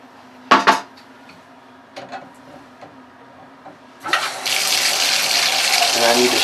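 A couple of metallic clanks and knocks at a shower/tub valve with its cover removed, then water bursts on and runs in a steady hissing stream, fairly close.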